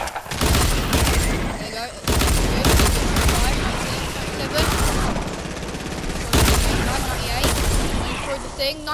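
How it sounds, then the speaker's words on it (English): Repeated loud, punchy blasts from a grenade launcher in Fortnite come in dense bursts across the whole stretch, with someone talking excitedly over the firing. "Oh, grenade launcher, yes, I got a grenade launcher"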